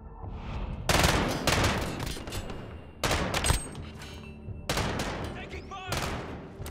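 Bursts of automatic gunfire in the video game Modern Warfare, several loud rapid volleys separated by short pauses, with game voice callouts mixed in.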